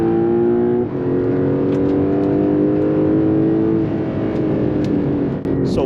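A Porsche 911 Turbo S engine pulls hard in a steady loud drone heard from inside the car, its pitch rising briefly after a gear change and holding strong throughout.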